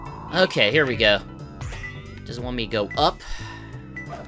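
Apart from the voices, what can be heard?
cat meowing in Sonic Adventure 2 video game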